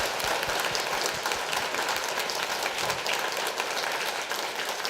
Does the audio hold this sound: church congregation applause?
yes